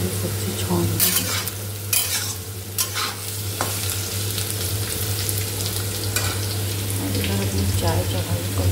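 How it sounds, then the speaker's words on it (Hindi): Vegetables being tempered in a hot pan in a home kitchen, a steady loud sizzle with stirring clatter of a spoon against the pan and a few brief louder scrapes, close up. "सब्जी छौंक दी"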